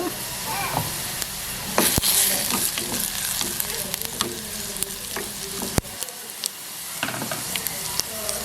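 Onions fry and sizzle in a pan while a spoon stirs them, giving a steady hiss with scraping strokes and clinks, close and moderately loud, with no talk over it.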